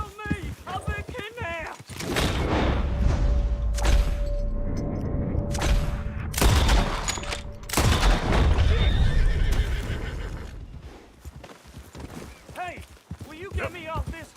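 Horse whinnying and clopping hooves in Red Dead Redemption 2, loud neighs opening and closing the clip with a heavy rumbling stretch of hoofbeats and commotion between, voices talking over parts of it.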